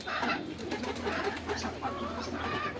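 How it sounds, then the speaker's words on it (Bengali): A dove, kept in a household loft alongside pigeons, coos steadily over a dense bed of background bird noise, close and moderately loud throughout. "এখানে আমাদের আরেকটা ঘুঘু আছে"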